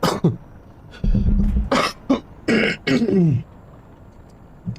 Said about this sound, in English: I keep forgetting to mute the mic when I cough.